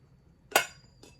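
A small three-piece glass teapot with a strainer and press gives one bright clink as it is handled, then a fainter tap about half a second later. No one talks.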